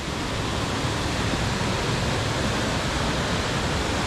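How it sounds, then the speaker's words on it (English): Loud river stream rushing in Manchester, Jamaica, a dense steady roar of water that stays constant and close throughout, with no voices. "We're on the stream of water."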